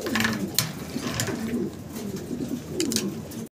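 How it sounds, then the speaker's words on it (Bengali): A pair of Rose Tumbler pigeons coo softly and repeatedly, close by, in low throaty rolling calls with some faint background noise. "খুব সুন্দর এক জোড়া কবুতর আমরা দেখতে পারতেছি ভাইয়ের কাছে"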